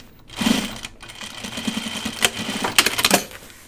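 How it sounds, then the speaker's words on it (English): A sewing machine stitches through a dopp kit in bursts of rapid mechanical clatter, starting and stopping several times, close and alone with no talking. "I will sew the other one"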